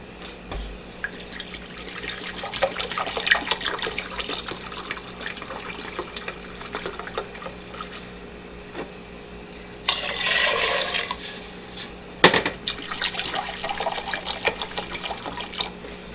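Tap water runs and splashes into a pot while three cups are measured out for a dill pickling brine for carrots and beans, steady flowing with a louder gush partway through and a sharp clunk near the end, no talking.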